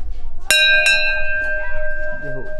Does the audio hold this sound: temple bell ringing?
yes